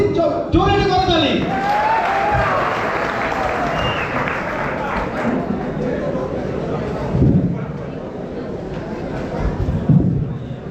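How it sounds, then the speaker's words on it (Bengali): Bikers at a motorcycle meetup in Barisal burst into loud, sustained applause. Dense clapping and crowd noise fill the space, then fade into scattered claps, shouts and murmuring. "আর বরিশালের সকল বাইকার প্লিজ জোরে একটা করতালি"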